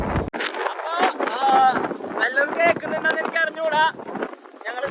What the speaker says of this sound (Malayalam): കാറ്റ് മാത്രമേ ഉള്ളൂ പിന്നെ കാറ്റത്ത് പറന്നു പോകണ് ഞാൻ ശരിക്കും നല്ല കാറ്റടാ ഒരു നല്ല സ്പീഡുണ്ട്